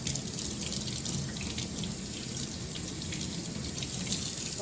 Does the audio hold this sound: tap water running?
yes